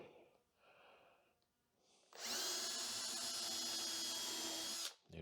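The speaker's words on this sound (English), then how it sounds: "I want to pre-drill so when I screw these on" A power drill pre-drills screw holes so the pieces won't split. After about two seconds of faint breathing and quiet room noise, it whirs loudly and steadily for nearly three seconds, then cuts off sharply.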